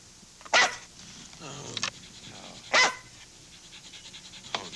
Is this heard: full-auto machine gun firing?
no